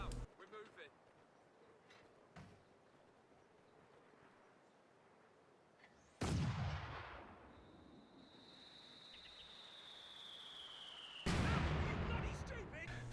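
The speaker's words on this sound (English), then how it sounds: "that company command post howitzer has to turn and face before shooting" A company command post howitzer fires in Company of Heroes 2 on a counter-battery range. Two heavy booms cut through a faint, quiet background, and a whistling shell tone trails between them.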